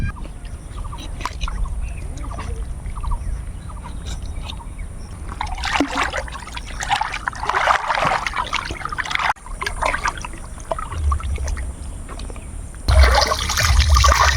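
Water splashing and trickling in a pond as goat tripe is washed by hand, with steady sloshing, dribbling and louder bursts of churning water close by, and no talking.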